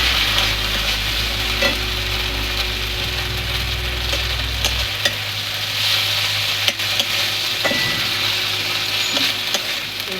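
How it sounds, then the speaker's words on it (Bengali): Onions frying in a pan until reddish, a continuous close sizzle with repeated stirring scrapes and spatula taps, over a low mechanical hum in the first half, no speech. "এগুলো একটু লাল করে ভেজে দেবো পেঁয়াজগুলো"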